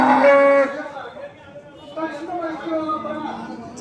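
A cow lows loudly at the bustling Vaniyambadi cattle market in Tamil Nadu, a single drawn-out moo at the start, followed by steady crowd chatter and talking nearby.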